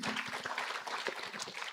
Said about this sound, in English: All right, a round of applause for Elijah Kabaso